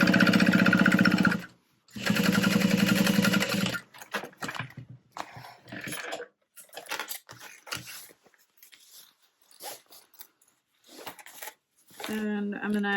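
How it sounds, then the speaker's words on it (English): A sewing machine top stitches through an ironed seam on a Felicity tote bag, running in two loud bursts of about two seconds each before a voice talks over quieter handling sounds. "And then I'm just going to top stitch through that."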